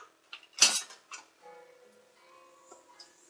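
Eggs, brown sugar and vanilla sugar being mixed for brownie batter: one sharp utensil clatter against a bowl, a couple of lighter taps, then faint scraping and soft ticks.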